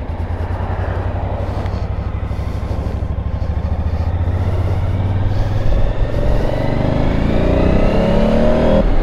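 Suzuki V-Strom 1000 motorcycle engine heard close while the bike makes a slow U-turn, a steady loud rumble that lifts in pitch as the throttle opens, with no talking.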